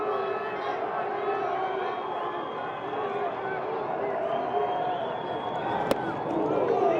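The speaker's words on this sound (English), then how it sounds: "a pop from the crowd of the fans who have stuck around" A baseball stadium crowd in the ninth inning of an Orioles vs White Sox game cheers for a pinch hitter, a steady, loud roar of distant voices mixed with speech.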